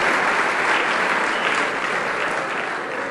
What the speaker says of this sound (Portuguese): Palmas para a dupla Pó e Poeira.